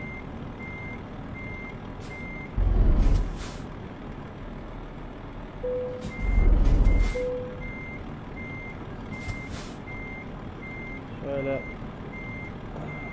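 Truck reversing beeps from a Renault Magnum in Euro Truck Simulator 2, sounding as a steady series of evenly spaced pips while the rig docks, with two brief hissing bursts of air brake and faint engine rumble underneath; someone speaks once.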